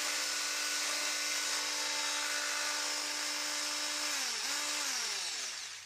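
An electric whisk runs with a steady high whine, loud and close, that dips in pitch and briefly stutters near the end before winding down.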